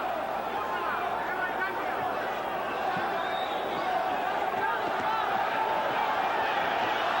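A boxing crowd roars steadily and loudly at a Chavez vs. Tszyu world title fight as punches land, a dense, continuous wall of cheering that swells slightly toward the end.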